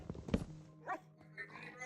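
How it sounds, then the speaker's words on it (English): Dogs in the Minecraft video game making short bark-like yelps and whimpers, a few brief sounds spread across a couple of seconds with a steady low hum underneath. "these dogs making noises is crazy"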